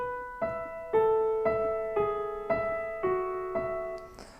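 Piano right hand playing the guitar-solo melody from a song: eight clear single notes struck at an even, unhurried pace, each ringing briefly before the next, soft and close with no talking.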